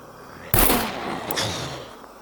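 A single sharp gunshot in the video game SCUM cracks out, followed a moment later by a softer second report and a fading echoing tail.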